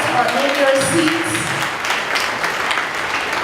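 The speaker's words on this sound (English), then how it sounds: "So let's give him a big round of applause." Audience applause at an arts, neo-soul and poetry awards ceremony, a dense, continuous wash of clapping from a crowd that holds steady and tapers slightly toward the end.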